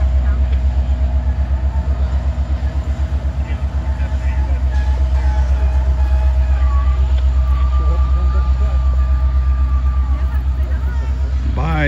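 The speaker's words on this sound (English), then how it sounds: "eastbound loaded Norfolk Southern coal train" A heavy eastbound loaded Norfolk Southern coal unit train, hauled by SD70ACU locomotives, rumbles past at close range on Horseshoe Curve, its cars clattering in a steady rhythm under a deep continuous roar, with faint voices nearby.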